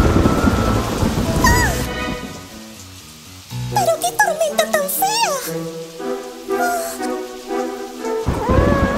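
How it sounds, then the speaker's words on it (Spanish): A thunderstorm with rain in a Spanish-language cartoon, thunder and rain noise heard at the start and end, with animated characters' voices and music between. "¡Pero qué tormenta tan fea!"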